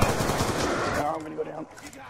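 Rapid automatic gunfire from a Black Ops 2 Zombies match on the Die Rise map, a fast burst of shots that fades after about a second into quieter game noise.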